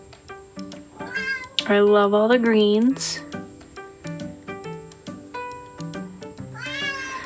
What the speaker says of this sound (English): Sorry for the cat in the background, he wants to add to this.